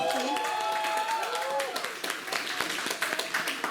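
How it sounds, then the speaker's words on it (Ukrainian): Applause from the crowd at a literary slam event, a dense wash of clapping with a few sharp claps standing out, while a voice speaks over the start. "Оплески."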